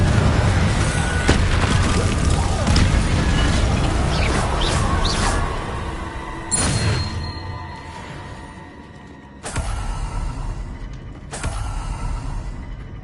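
Confringo fire spell blasts in Hogwarts Legacy, a run of loud booming explosions with crackling debris, three sharp separate bursts landing near the end, no talk.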